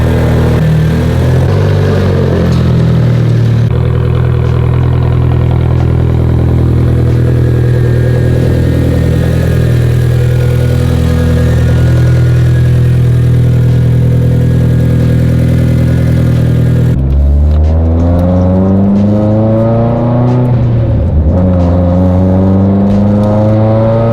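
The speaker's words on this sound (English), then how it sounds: "we, my friends, are going on a drive in the brand new Evo motor build." A rebuilt Mitsubishi Evo engine drones loudly and steadily from inside the moving car, then shifts near the end into rising and falling revs as the car accelerates through gears.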